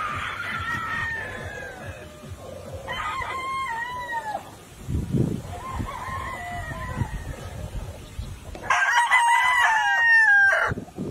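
Regular gray gamefowl roosters crow on a farm, several long crows coming in separate bursts, one loud and close near the end, with clucking and faint farm noise between.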